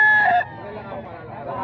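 A rooster lets out the tail of a loud, close crow at a chicken seller's place in Bocaue, cut off abruptly and followed by someone talking over low farmyard sounds.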